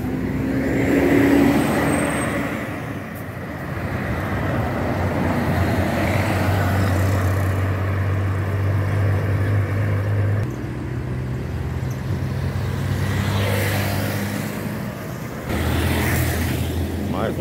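An Águia Branca intercity bus goes by at night, its low diesel engine drone steady and fairly loud over roadway noise for most of the stretch, with a brief hiss like an air brake.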